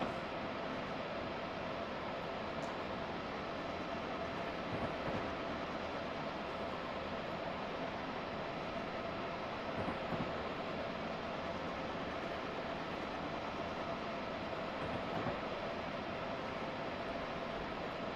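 Amtrak 618 train running in the Open Northeast Corridor Project rail simulator, a steady broadband rumble and wheel roar that holds evenly throughout with no talk.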